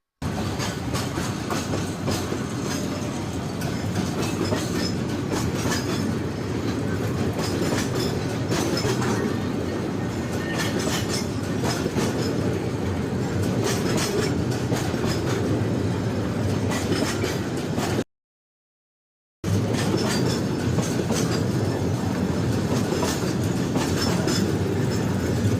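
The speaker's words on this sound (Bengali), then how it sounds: "এই ট্রেনটিতে মোট কয়টি মালামাল বক্স আছে?" Freight train of cargo wagons rolling past on rails, a loud, close, continuous rumble with steady clickety-clack of wheels that runs throughout with only a brief break.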